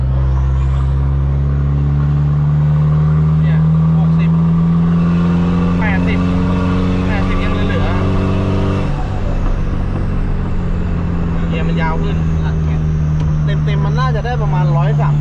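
A car engine runs hard in third gear at speed, a loud steady drone with strong low harmonics and a shift in pitch midway, while people talk over it inside the cabin.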